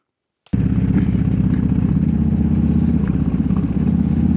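A 2023 Harley-Davidson Road Glide starts up abruptly and rides on a test run, its deep, loud, steady engine rumble filling the rest of the clip without any voices.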